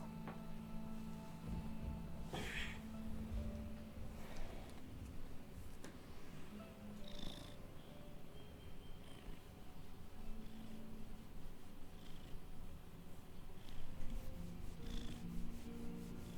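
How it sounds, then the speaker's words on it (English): A cat purrs softly and continuously close by, a low rumbling drone under faint background hum and a few small rustles, with no talking. "Listen to him purr."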